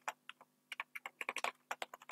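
Someone types on a computer keyboard that isn't working well, giving a quick, irregular run of close, crisp key clicks over a faint hum, with no talking.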